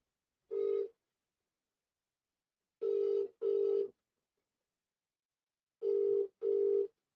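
A telephone call rings out in repeated bursts: a single ring, then two double-ring pairs separated by silence. The ringing is clear and moderately quiet, with no talking.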